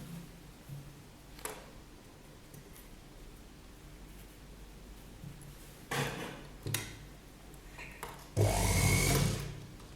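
A sewing machine stitches the belt onto a child's sleeveless summer frock, heard as a few short, fairly faint whirring runs over a quiet background, with the longest and loudest burst near the end.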